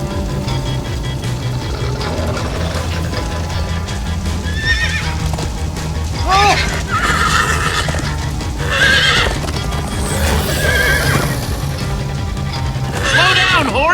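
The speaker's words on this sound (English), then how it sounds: "Slow down, horse!" Horses in the Minecraft Story Mode video game gallop with steady, loud hoofbeats and let out several shrill neighs and whinnies over a rumbling game soundtrack.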